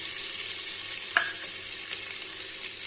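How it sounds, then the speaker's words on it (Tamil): Onions dropped into hot oil with fried cumin, sizzling in a pan as a steady close hiss with a brief clink near the middle. "இப்போ நம்ம வெங்காயத்தை போட்டுக்கலாம்."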